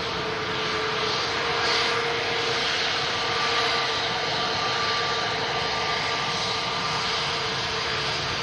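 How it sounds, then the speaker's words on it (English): An EasyJet jet airliner lines up for departure at Manchester Airport, engines giving a steady, loud whine and roar with a distinct tonal hum, sustained alone without pause. "EasyJet just lining up for departure."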